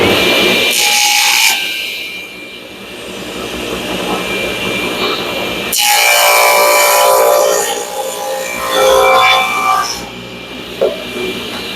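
A saw trims the end off a wooden charcuterie board, cutting loudly in two long bursts with a quieter gap between them.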